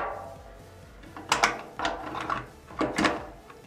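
Metal parts click and ratchet as the bolt is pulled free from a KWC CO2 blowback Mini Uzi airsoft gun, several close mechanical clacks and scrapes in uneven bursts with no talk.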